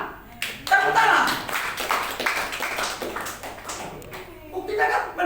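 A church congregation claps hands together in a worship service, a quick run of sharp claps mixed with a preacher's voice and a few taps, all fairly close and loud.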